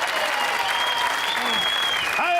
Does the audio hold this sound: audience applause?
yes